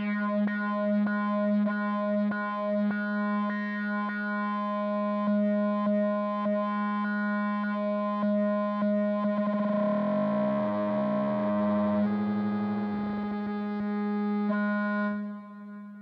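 A Make Noise 0-Coast synthesizer drones steadily on a bright, buzzing harmonic tone, then slope modulation comes in and makes the pitch warble and sweep before the sound settles again, heard alone.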